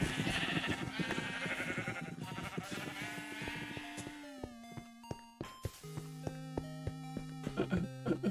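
Minecraft sheep bleat repeatedly in the video game as they are being killed, overlapping wavering cries that thin out into a few separate bleats amid small clicking hits, loud and close with no talk.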